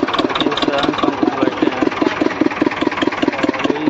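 A tractor engine runs on a farm with a steady, close chugging pulse, its rhythmic knock repeating evenly throughout, with a brief voice speaking over it.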